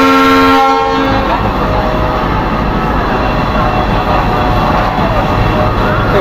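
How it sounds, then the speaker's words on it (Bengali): A train engine departs Khulna railway station with a loud, steady rumble and rattle of rolling stock that fills the whole stretch, opening with a brief horn-like tone before the heavy clatter settles in close by. "এই ট্রেনটা ছেড়ে দিল"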